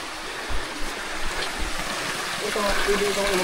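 Water flowing through a narrow passage in a stream, a steady broadband rushing that holds constant throughout, with faint low thumps and no clear voices.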